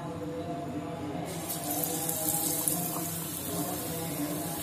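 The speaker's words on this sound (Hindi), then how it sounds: "तेल गरम कर लिया है। अब इसमें एक एक करके इस तरह से डालेंगे।" Aloo pakoras in gram flour batter go one by one into hot oil, and a steady, close frying sizzle and bubbling fills the whole stretch with no talk.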